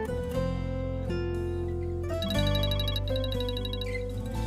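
A mobile phone ringtone plays alone, a loud melodic electronic tune with stepped notes and a brighter, busier passage in its second half, ringing continuously without talk.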